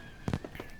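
Fireworks bursting in the visual novel Katawa Shoujo, a short pair of low, booming pops followed by fainter crackles, somewhat quiet and heard alone without voices.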